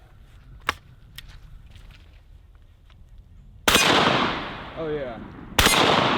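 Double barrel shotgun firing double-aught buckshot outdoors: two loud, close blasts a couple of seconds apart, each with a long rolling echo, after a brief spoken remark and a few faint clicks.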